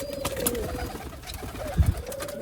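Rare Mian Nazir bloodline pigeons on a Sialkot rooftop give a brief low cooing burst near the end, over a steady background hum of outdoor noise.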